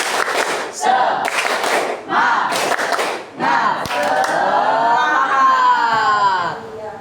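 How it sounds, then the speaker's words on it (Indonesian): Students in a classroom repeat the 'tepuk semangat' chant, patterned bursts of clapping in rhythmic groups mixed with loud group chanting, close and energetic, ending in sustained voices. "Satu, dua, tiga, tepuk semangat."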